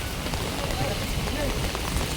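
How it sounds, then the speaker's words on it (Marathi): Rain begins falling in Goregaon, a dense, even patter on surfaces around a waterlogged spot, with faint voices beneath the steady hiss. "अशा तऱ्हेने पाऊस चालू झाला आहे आणि पावसाला सुरुवात झाली आहे."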